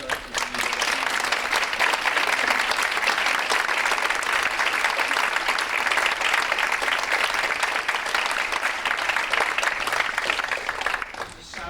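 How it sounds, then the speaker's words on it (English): A large audience at a prep school event applauds steadily for the prep school directors, dense sustained clapping holding at full strength for about eleven seconds before tapering at the end. "I'd just like a round of applause for all of the prep school directors."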